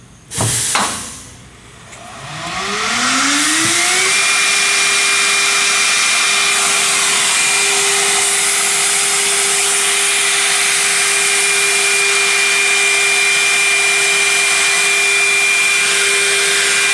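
A BAM CNC stair router spins up with a rising whine to 24,000 RPM, then settles into a loud, steady high-pitched scream and hiss as it cuts 24-inch stair stringers, continuing without pause.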